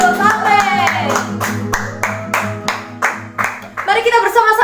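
A church congregation at a GSJA worship service claps in a steady, even rhythm of loud, close claps while voices sing and call out over the top.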